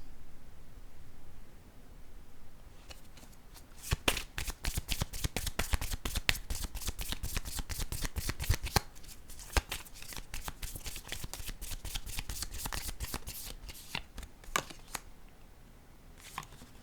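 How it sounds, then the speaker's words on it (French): Playing cards being drawn and shuffled close by, a long dense run of rapid riffling flutters with brief pauses, crisp and fairly quiet against a still background. "Je vais piger une autre carte."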